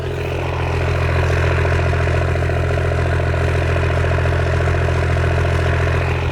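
A Cummins diesel pickup truck engine idles steadily and loudly close by, with a deep rumbling exhaust and a constant mechanical clatter.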